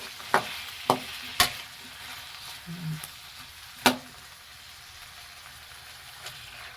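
Squid dropped into a pan of softened tomatoes for adobong pusit, giving a few sharp clatters and splashes over a low, steady sizzle that carries on quietly.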